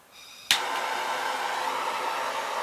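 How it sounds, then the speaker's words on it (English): A gas torch lights with a sharp pop and then roars steadily at close range, heating the cracked metal deck of a 1974 Gravely 812 mower. No one speaks over it. "maybe what I ought to do is put the torch back on it. Heat up this side."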